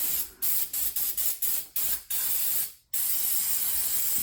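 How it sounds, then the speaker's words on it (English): Degreaser sprayed from an aerosol can onto engine parts, a series of short hissing bursts in quick succession followed by one longer continuous spray, loud and close. "He's holding the camera with one hand, spraying with the other"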